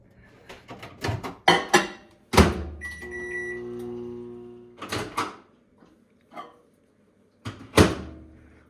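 A microwave oven runs with a steady low hum and faint tone for a couple of seconds, melting ingredients, between clunks and bumps of kitchen handling.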